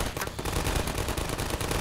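Automated sentry turrets in the shooter game Half-Life 2: Episode Two fire a continuous rapid stream of loud, dense bursts, close and relentless without a break.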